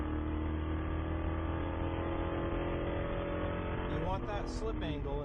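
Spec Corvette race car at Sonoma Raceway: a steady, fairly quiet engine drone holds a constant pitch, then briefly shifts near the end as a voice comes in over it.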